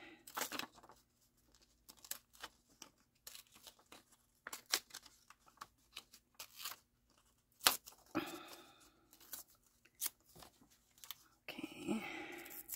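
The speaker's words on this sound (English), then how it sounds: "I'm just going to kind of rip it out around it" Brittle, crackly paper from an old book torn by hand, a series of short ripping bursts with a longer crinkly tear near the end, close and fairly quiet.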